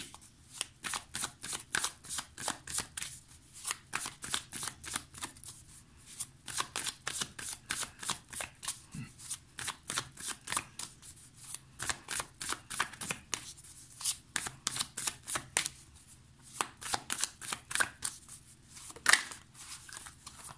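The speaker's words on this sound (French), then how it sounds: "Hop, on va aller voir l'évolution avec The Light Seers Tarot." The Light Seers Tarot deck is shuffled by hand in a quiet room, a long run of quick, crisp card riffles and flutters coming in bursts with short pauses between, close and clear, with no talk.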